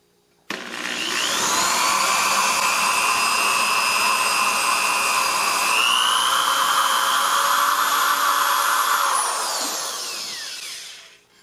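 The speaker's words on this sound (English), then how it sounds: "The first thing I'm going to cut is the sound hole on the body of my thumb piano" A scroll saw cuts the sound hole into the wooden body of a thumb piano (kalimba), a steady high whine with sharp tonal harmonics running unbroken for about ten seconds, close and loud, shifting pitch slightly midway before winding down.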